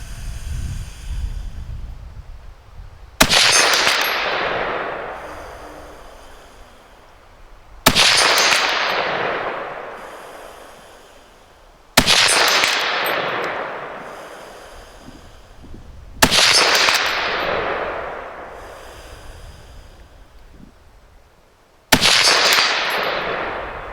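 Five loud, sharp rifle shots from a Mk III* SMLE fired at targets while the shooter wears Great War anti-gas equipment, each crack spaced several seconds apart with a long ringing decay, close and alone without talk.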